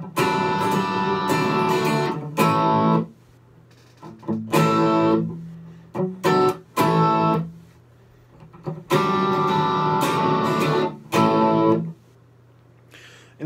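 Electric guitar plays a riff through a Line 6 Spider V non-tube amp: loud, distorted chord stabs in rhythmic bursts separated by short gaps, played alone.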